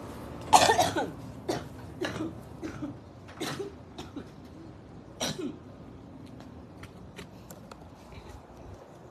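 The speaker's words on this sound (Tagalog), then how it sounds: "Inubo." A person coughing outdoors on a rural mountain homestead, a sick, phlegmy series of several sharp coughs spread over a few seconds, loudest at the start, with softer throat sounds and rustling in between.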